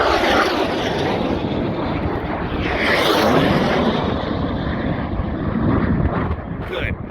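Jet aircraft racing low around pylons at a home pylon race, a steady loud roar of engine noise with wind rumble filling the whole stretch, swelling slightly mid-way, with commentary voices underneath.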